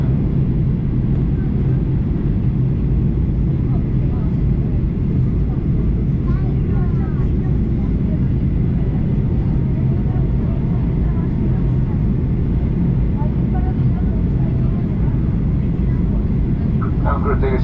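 Steady, loud cabin roar inside a Ryanair Boeing 737-800 descending for landing on a Malaga to Pardubice flight, a continuous low rumble of engines and airflow with faint announcements beneath.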